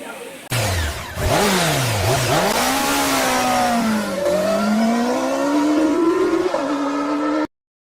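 A Triumph 675 superbike engine revs loudly and close, its pitch climbing and dipping through several throttle blips before holding a high, sustained howl that cuts off abruptly.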